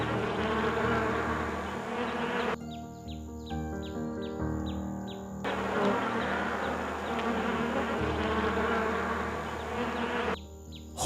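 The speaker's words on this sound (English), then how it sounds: "It's a bee." A bee buzzes steadily and close through the whole stretch, with brief bird chirps breaking in twice.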